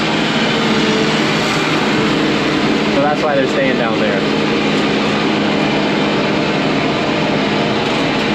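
Heavy farm tractor and forage chopper engines drone steadily in a soft, swampy field, a loud continuous low rumble filling the whole span while someone talks over it.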